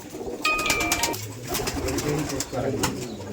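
Giribaj pigeons coo at a pigeon farm, soft repeated throaty coos close by, with background voices and movement in a busy setting.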